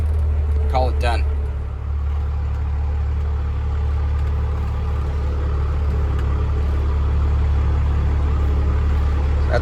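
A car, the project car Brown Sugar that is getting a new steering column, driving back into the shop, a steady loud engine rumble throughout that dips briefly near the start, with a short burst of other noise early on.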